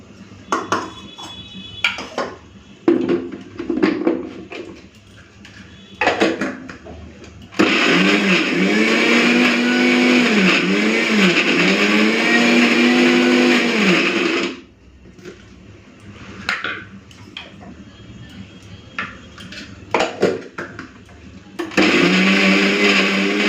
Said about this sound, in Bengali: এই কাঁকড় সিদ্ধগুলোকে বেটে নেব নিয়েছি মিক্সার জারে অল্প অল্প করে বাটবো